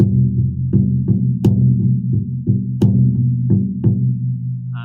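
A deep drum struck in a steady repeated rhythm, each booming hit ringing into the next, loud and close, with no voices.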